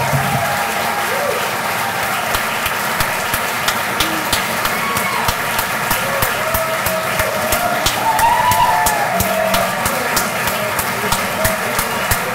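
A crowd at the 2022 Brookie Award ceremony applauds the award winners: a steady, dense wash of clapping that holds for about twelve seconds at even loudness, with faint murmuring underneath.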